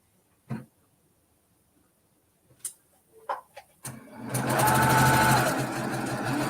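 A sewing machine stitches a wool quilt block, starting after a few soft clicks and then running steadily and loudly to the end.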